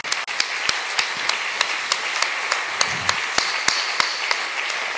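Applause from a crowd, with regular sharp claps standing out from a steady bed of clapping, fairly close and continuing throughout.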